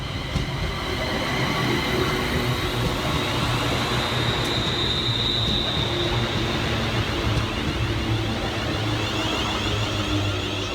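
ScotRail Class 380 unit 380-007 rounds the corner into Paisley Gilmour Street station on the 0833 Wemyss Bay to Glasgow Central service, a steady, loud rumble and rail roar that holds evenly throughout with no voices.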